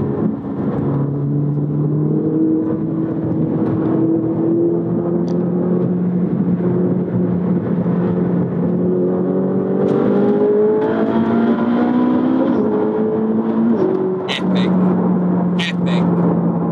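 A Ferrari 458 Speciale on a race track revs hard, its engine note climbing through the gears in repeated rising sweeps, loud and close from inside the car, with brief shifts between pulls.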